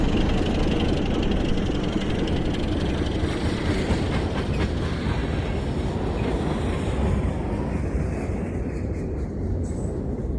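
Tank engine trains rolling along rails, a steady close rumble with rhythmic clickety-clack of wheels and a low engine drone, continuous and fairly loud throughout, fading slightly toward the end.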